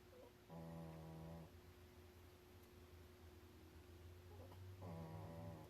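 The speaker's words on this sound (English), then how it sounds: "My dog's snoring away." A dog snoring nearby in two slow, droning breaths several seconds apart, faint against a steady background hum.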